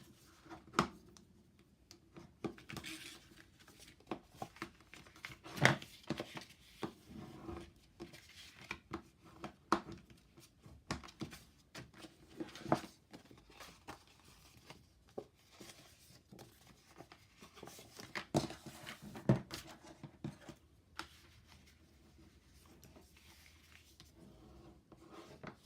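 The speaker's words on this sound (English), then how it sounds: "Okay, I'm gonna fold. And burnish." Paper being folded and burnished by hand while making a folio, heard as soft, close rubbing and scraping strokes in scattered bursts over a quiet background.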